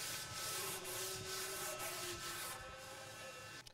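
Abrasive paper on a sanding block rubs back and forth over primer on a car body panel, rolling over a curved radius, giving close, steady scratchy strokes with regular rhythmic swells.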